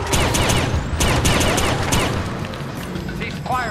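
Gunfire in The Bourne Conspiracy game during an embassy escape: dense, rapid volleys of shots and crashing impacts, loud and continuous, with game voices mixed underneath.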